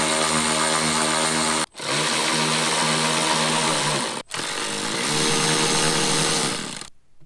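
A Jeep JL air filter housing's screws are loosened with an 8mm socket in a continuous loud, close whirring buzz like a powered driver, cut by two brief pauses before stopping near the end.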